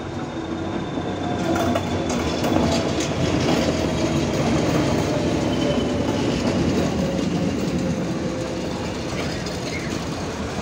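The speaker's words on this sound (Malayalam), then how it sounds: "ഊട്ടിയിൽ നിന്നും കൂനൂരിലേക്കുള്ള ട്രെയിൻ എതിരെ വരുന്നുണ്ട്." A Nilgiri Mountain Railway train runs on the line between Ooty and Coonoor, a steady, loud rolling rumble with faint wheel clatter and squeal that holds evenly throughout.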